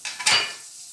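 A tablespoon of butter hits a pan over ultra-low heat, giving a short hiss that fades to a soft sizzle within about a second, close and fairly quiet.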